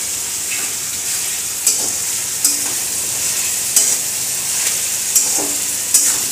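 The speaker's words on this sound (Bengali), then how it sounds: "পেঁয়াজটাকে আমরা ব্রাউন করে ভেজে নেব।" Five grated onions fry in hot oil for chicken curry, a steady close sizzle broken by sharp metallic scrapes of a spoon stirring the pan every second or so, with no talk.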